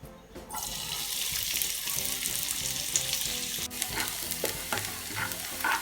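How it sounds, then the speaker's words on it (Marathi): Finely chopped onion frying in hot oil for a paneer paratha filling, a steady close sizzle with stirring clatter and scraping throughout. "तेल गरम झाल्यानंतर ह्याच्यामध्ये बारीक चिरलेला कांदा ॲड करून थोडंसं मऊ करून घ्यायचं आहे"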